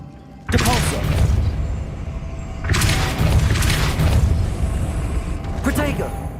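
Three separate blasts of the Depulso spell in Hogwarts Legacy hit with heavy, rumbling booms and crackling bright bursts, spaced a couple of seconds apart over a low background rumble.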